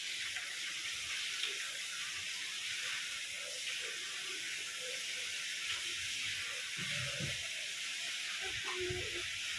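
Water pours steadily from a tap as a constant close hiss, with children's voices faintly audible beneath it.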